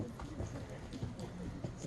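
Horses' hooves clip-clop on the arena ground during a western horsemanship class, with a steady, soft, irregular patter of footfalls close by. Voices are faintly mixed in underneath.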